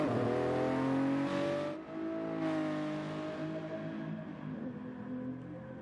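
Race car engines in Gran Turismo Sport, cars heading out onto the circuit: a loud, steady engine drone with harmonic whine, one car's pitch shifting and revving as it pulls away, no talk.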